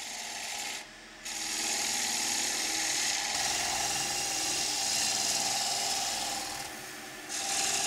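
A lathe turning tool makes a series of shear scrapes across a spinning wooden bowl, a steady close rasping hiss that runs almost without pause, dipping briefly twice.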